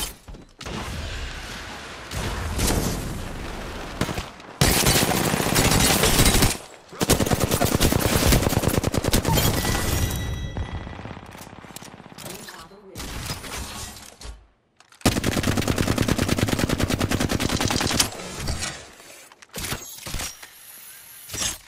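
Rapid automatic weapon fire in Apex Legends, loud sustained bursts broken by brief pauses and a near-silent gap, with sharp impact and shattering crackles layered through the firefight.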